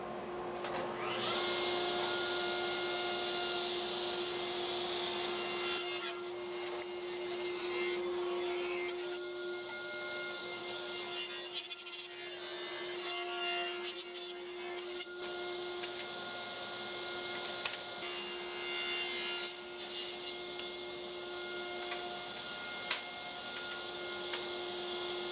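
Old pine boards being ripped into strips on a power saw, a loud steady whine with a constant tonal hum that dips briefly around midway and then resumes, continuing close by without talk.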